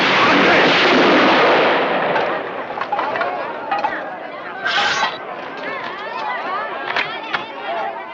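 Soldiers fire guns in a battle scene from the 1975 Zorro film, a dense loud volley of overlapping shots at first that thins into scattered cracks over crowd chatter and shouting.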